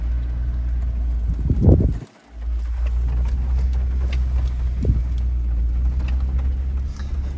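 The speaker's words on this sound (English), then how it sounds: "Minivan." A minivan goes by on a dirt road, a short rushing swell over the steady low engine rumble and wind of a vehicle on a windy ridge, with no talk.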